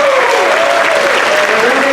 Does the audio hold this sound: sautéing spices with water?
no